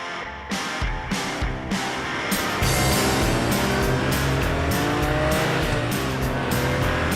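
A stolen car is driven hard, its engine roaring loud and close without pause while tires squeal repeatedly over a dense, busy backdrop.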